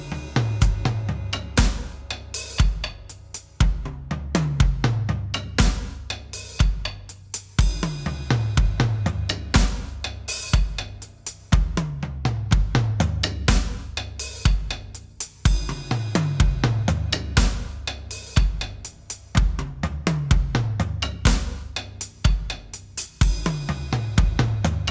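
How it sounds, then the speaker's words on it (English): A drum kit plays a steady paradiddle groove with ride cymbal and open hi-hat accents, the strokes crisp and regular, looping in even bars with no voices. "we're also going to try and add in the open hi-hat on the first left-hand stroke of the paradiddle diddle."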